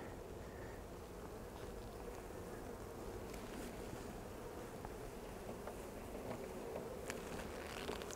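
A dense, steady hum of many honeybees swarming over an opened hive as frames of brood are lifted out for a split, with faint outdoor wind noise underneath.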